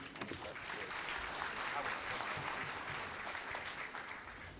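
Sustained applause from a crowd at a Korean political party's public candidate interview event in Gwangju, dense steady clapping filling the whole stretch without a break.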